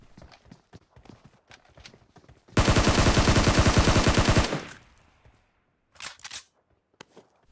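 A long burst of rapid automatic gunfire from a gun in the mobile battle-royale game PUBG Mobile, loud and evenly paced for about two seconds, followed later by a shorter burst among scattered clicks and game effects.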